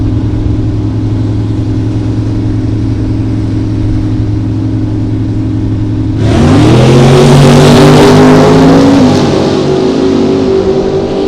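Drag race cars, a 1967 Nova and a Camaro, idle with a low rumble before launching together into a loud, rising engine roar that peaks and holds near the track.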